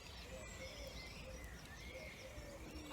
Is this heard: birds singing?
yes